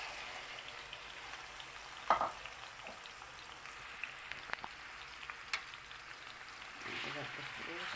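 Chicken pieces laid into hot olive oil in a pan give a steady soft sizzle with a sharper crackle at one point and a few light pops and clinks, with no talking.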